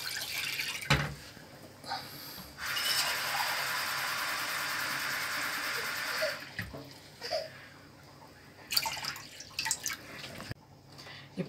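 Water is poured into a pot in a home kitchen, about two tumblers' worth for a herbal decoction. A steady splashing stream runs for several seconds, then trickles, drips and clinks follow.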